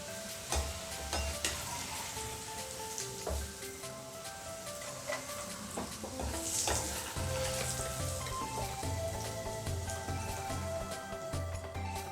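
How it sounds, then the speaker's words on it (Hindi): Elephant foot yam frying in hot oil gives a close, crackling sizzle with popping spatters and the occasional scrape of stirring, steady and busy across the whole stretch, no voices. "इसे हम लाल होने तक फ्राई कर लेंगे"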